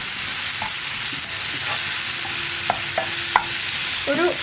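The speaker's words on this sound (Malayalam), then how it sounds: "ഒരു മിനിറ്റോളം നമ്മളൊന്ന് ഇളക്കി കൊടുക്കുക" Chopped tomatoes frying in a pan for egg roast while being stirred, a continuous close sizzle broken by a few soft scraping and tapping strokes of the spoon.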